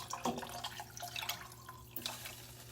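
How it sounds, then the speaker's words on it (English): About two cups of water are poured into a pot to make ramen broth. It is a close, splashing, trickling pour with a few brief drips, heard alone without speech. "we're going to add some water,"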